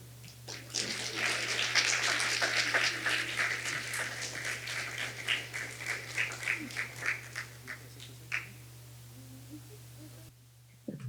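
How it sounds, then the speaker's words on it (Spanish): An audience at a talk on particle trajectories at the Large Hadron Collider breaks into applause, a burst of clapping that swells then breaks into distinct claps and fades out, over a steady electrical hum. "Un fuerte aplauso, por favor."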